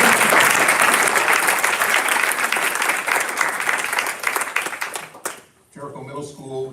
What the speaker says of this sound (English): We can clap at that.